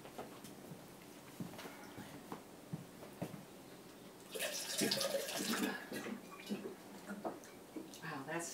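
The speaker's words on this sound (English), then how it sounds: "I'm going to have to put cold water in with it too." Cold tap water runs into a container of too-hot water, a rushing splash swelling for a second or two among quieter drips and clatter, with a voice speaking nearby.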